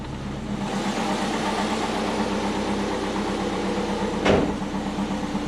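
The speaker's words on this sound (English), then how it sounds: "It is idling higher, which is great. It's a lot smoother now." A twin-turbo Subaru Forester engine idles steadily with a low, even rumble, close by, with one brief louder burst near the end.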